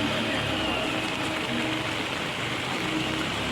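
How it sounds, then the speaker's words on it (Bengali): Heavy rain pouring onto a flooded street in Kolkata, a steady, dense hiss of rainfall that stays even and continuous for a few seconds. "দেখো জোরে বৃষ্টি এসে গেছে।"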